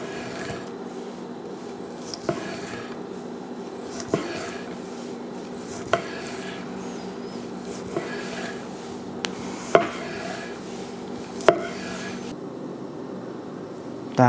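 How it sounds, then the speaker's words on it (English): A knife slices pork pastrami off the end of a small piece, giving a steady series of soft, evenly spaced taps against the cutting board, fairly faint and close. "I'm going to just start slicing it off the end."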